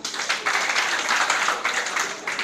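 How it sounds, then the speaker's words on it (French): Audience applause in a school quiz setting, steady dense clapping of a crowd sustained throughout, moderately loud with slight swells and no voices over it. "on les applaudit"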